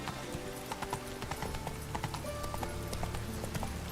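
A horse gallops up to its rider in The Witcher 3, its steady, rapid hoofbeats clip-clopping close and clear over game music, with no one talking.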